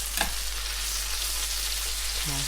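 Eggplant stir-fried with basil and oyster sauce in a hot pan, a continuous loud sizzle with stirring and a brief clank near the start, close and steady.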